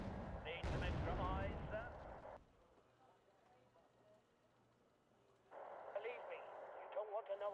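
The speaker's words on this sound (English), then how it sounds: "Let's get some mortars going." Mortar fire in a war strategy video game: heavy booming blasts and rumbling explosions at the start, a quieter stretch with faint crackle, then a second volley of loud bursts. Game voices and radio chatter mix in.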